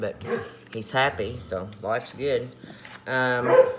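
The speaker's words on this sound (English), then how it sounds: "Sorry about the dog" A dog barks and whimpers repeatedly in short bursts close by, mixed in with someone talking over it.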